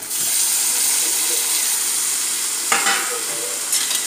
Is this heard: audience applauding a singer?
no